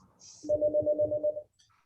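A phone rings during a tourism district board meeting, one electronic ring with a rapid pulsing warble lasting about a second, loud and close, followed by silence.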